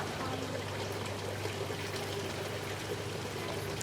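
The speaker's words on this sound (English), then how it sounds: "let's water this guy with a mist" Water misted from a hand spray bottle onto a Venus flytrap during repotting, a steady close hiss running unbroken throughout at even loudness.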